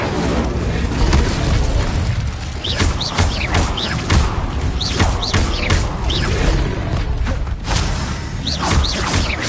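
Incendio fire spell cast in Hogwarts Legacy: repeated loud whooshing bursts and booming impacts, each flare sweeping upward, coming in quick succession over a dense rumble of combat.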